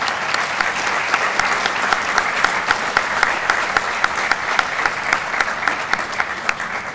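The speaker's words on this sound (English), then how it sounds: "just get a round of applause for the district" Audience applause for the Honolulu District workforce at a change of command ceremony, a steady dense wash of many hands clapping that holds evenly for the whole stretch, with no talking over it.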